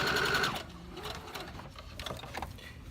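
Sewing machine running a straight stitch in a short burst, a quiet rapid mechanical chatter and whir that winds down after about half a second, leaving faint ticking handling sounds.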